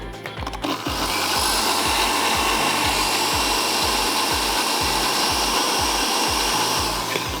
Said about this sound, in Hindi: मैं थोड़ा सा क्रीम इसमें से लेके इसमें डाल के इसके साथ ब्लेंड कर देती हूँ